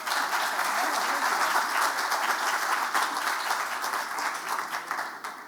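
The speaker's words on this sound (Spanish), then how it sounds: "Un fuerte aplauso, por favor." A large audience claps steadily at a tribute honoring Colombian football coach Francisco "Pacho" Maturana, a dense sustained ovation that stays loud throughout and eases slightly near the end.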